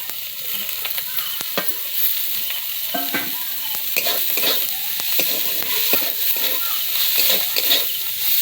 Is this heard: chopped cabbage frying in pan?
yes